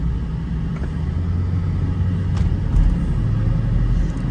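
A Mercedes SL500 driving while stuck in first gear, heard from inside as a loud, steady low engine drone and road rumble that never shifts, holding one pitch throughout.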